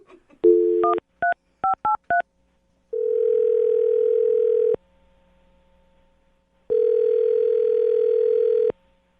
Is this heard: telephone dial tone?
yes